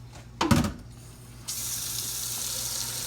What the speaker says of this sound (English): Now I'm gonna fill this up with water.